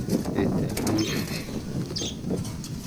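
A strong female racing pigeon flaps its wings while being caught by hand, with brief close rustling flutters and soft clattering over a few seconds.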